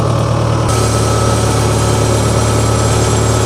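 A paddy loading machine's engine starts up with a sudden hum and settles into a steady, close, loud running drone that continues without pause.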